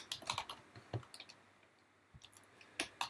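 Notes typed on a computer keyboard, quiet, close key clicks in a quick irregular burst, then a pause and a few more keystrokes near the end.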